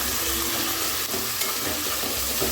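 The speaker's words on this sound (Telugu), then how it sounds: "చికెన్ గట్టిగా అయ్యేంత వరకు ఫ్రై చేసుకోవాలి" Chicken frying in a pan while being stirred produces a dense, steady hiss and sizzle, loud and close, with faint scraping and no talk.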